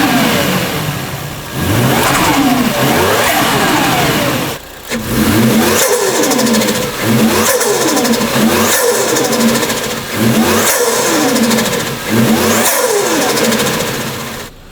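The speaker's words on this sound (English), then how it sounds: "Now we can start the car." A Toyota Chaser JZX100 fitted with a new HKS intake revs hard and close by, with repeated sharp throttle blips that rise and fall over a steady running engine, one brief lull partway through.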